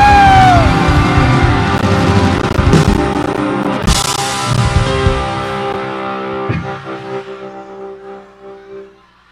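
A big crowd at a congressman's night event in the 1st District of Misamis Occidental, Philippines, shouts and cheers loudly, the roar trailing off into scattered whoops and echoes over several seconds.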